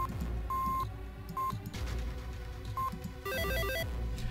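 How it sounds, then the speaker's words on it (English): In the video game Nine Hours, Nine Persons, Nine Doors, a puzzle machine gives short electronic beeps, then a rapid run of stepped melodic tones, all over a constant low background drone. "All I had to do was listen to the sounds the machine made."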